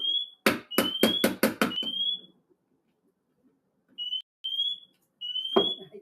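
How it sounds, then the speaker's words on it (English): A smoke alarm going off for no apparent reason shrills in repeated high beeps, broken by a burst of loud knocking, then short beeping chirps resume after a pause. "my smoke alarm going off for no apparent reason"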